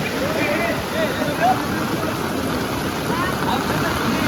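Floodwater rushes through the streets of Chakale village after extremely heavy rain, a loud continuous roar of flowing water that holds steady throughout, with faint voices underneath.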